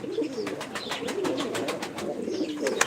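Pigeons and turtle doves coo close by in a steady, throaty stream of rhythmic pulses, with no voices over them.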